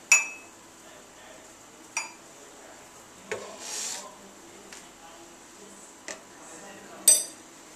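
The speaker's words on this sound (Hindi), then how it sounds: "1 कप के अंदर हम दूध डाल देंगे" Metal spoon working milk into a cup for tea, with sharp clinks and scrapes against the cup at irregular intervals in a quiet room.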